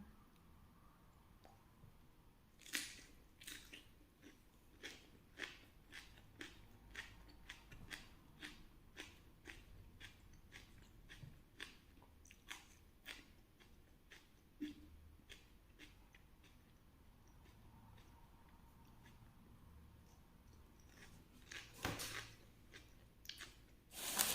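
A lone diner eats fish with chili powder by hand: repeated close, sharp crunchy bites and wet mouth clicks in an irregular rhythm, with faint background hum and no talk.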